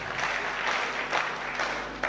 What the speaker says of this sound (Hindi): आप ताली क्यों बजा रहे हैं?